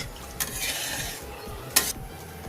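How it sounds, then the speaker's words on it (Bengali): Spice paste mixed with water being stirred for Bengali tel koi fish curry, a soft continuous scraping swirl with two brief sharper spoon strokes, fairly quiet and with no voices. "তো আমি জলের সাথে মশলাটা ভালো করে মিশিয়ে নিচ্ছি।"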